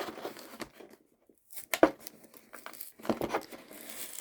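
Toy figure of a Monolophosaurus dinosaur from a Jurassic World Chaos Theory story pack being cut loose from its packaging, with bursts of close plastic and cardboard tearing and crinkling separated by brief pauses.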